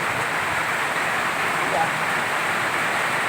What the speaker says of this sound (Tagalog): Narinig nyo, lakas ng ulan.